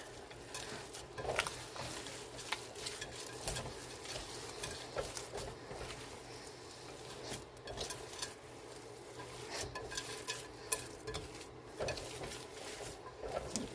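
Ground hamburger steak mixture being mixed in a bowl, with soft squelching and faint scattered clinks that stay quiet and steady throughout. No one speaks.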